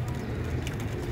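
Soft, low pigeon cooing murmurs continuously, a dense rumbling coo with no other sounds standing out.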